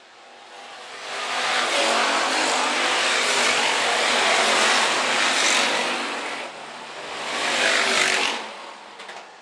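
IMCA Hobby Stock race cars at Phillips County Raceway roar past on dirt in a loud, broad wash of engine noise that builds, holds, dips, then surges again as a second pack passes.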